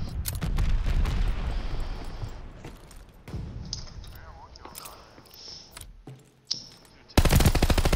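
Rapid bursts of machine gun fire from an online shooter video game crackle through the first seconds, then recur more faintly, with players talking over the shots.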